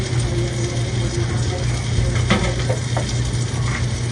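Bacon frying in a pan, giving a steady, close crackling sizzle with faint clinks of a utensil, continuous throughout with no talking.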